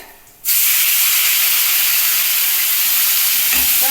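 Onion hits hot oil in a pan for a soybean curry, setting off a sudden loud, sustained hissing sizzle after a brief quiet start.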